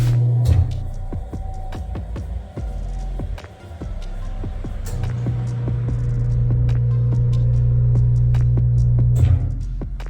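Mayflower 680 tire balancer spinning a wheel during calibration, a steady low motor hum and throbbing drone that swells and holds loud through most of the stretch, with faint clicks and taps over it.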